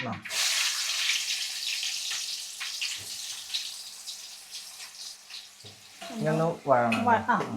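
Chicken masala and turmeric frying in a pan while being stirred, giving a loud hiss and sizzle that gradually thins and fades. Faint stirring scrapes run through it, and a voice speaks over the last stretch.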